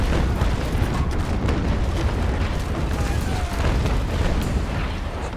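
Nine-pounder ship cannons fire in Naval Action, a sea battle game, producing a continuous barrage of heavy booms and cracks layered into a dense, loud rumble throughout.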